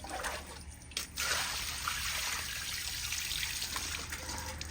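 Rice being washed by hand, water trickling and splashing steadily at close range, a brief louder swirl near the start, no talk.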